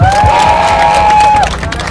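A comedy and poetry event crowd cheers and claps loudly, with a high sustained whoop rising above the noise before it settles into lighter applause.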